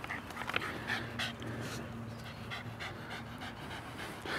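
A dog pants steadily and rapidly at close range after a training session, the quick breathy rhythm continuing throughout with no talk over it.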